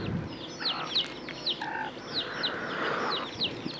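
Chickens and ducks on a village farm at dusk, with repeated short chirps and clucks scattered across the clip, plus a few brief calls, close and moderately loud over a steady background hum.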